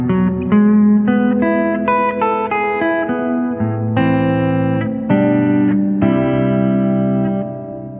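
An electric guitar played through a Fender Pano Verb amp set for heavy bass, a sequence of loud sustained chords and notes with effects, ringing continuously.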